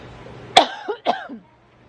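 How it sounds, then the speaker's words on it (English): Two quick, harsh coughs close to the mic, one right after the other, over a quiet background hum. "so I keep coughing."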